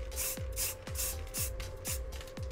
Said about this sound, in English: Very light spraying of it.